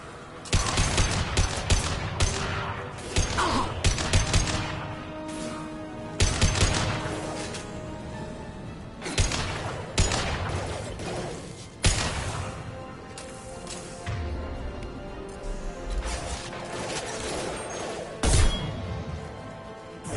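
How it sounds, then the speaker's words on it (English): Sci-fi gunfire in Mass Effect, bursts of rapid shots in distinct volleys separated by brief lulls, loud and close with little talk. "Firing now."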